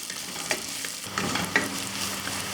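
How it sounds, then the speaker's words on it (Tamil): Onions sauté in a pan for a mutton gravy, with a steady sizzle and repeated clinking scrapes of a spoon stirring them, close and continuous. "இப்போ இந்த வெங்காயம் வந்து நல்ல ப்ரௌன் கலரில் வதங்கணும்."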